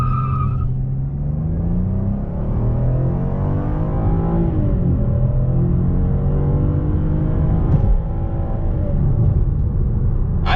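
A 2019 Cadillac XTS with a 6-speed transmission accelerates from the cabin. The engine drone climbs steadily in pitch, steps down at a gear change, then rises again, loud and continuous with no voices.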